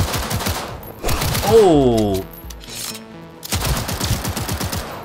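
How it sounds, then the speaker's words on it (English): Automatic pistol gunfire in Cyberpunk 2077, fired in several loud rapid bursts at the start and again near the end, separated by a quieter stretch with a short exclamation from a player. "I just realized this pistol's automatic."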